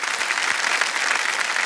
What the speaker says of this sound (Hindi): जोरदार तालियां एक बार फिर बजाएं उनके लिए